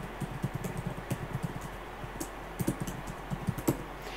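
Typing on a computer keyboard, soft irregular clusters of key clicks, close but fairly quiet, with a few brief pauses between bursts and no voices.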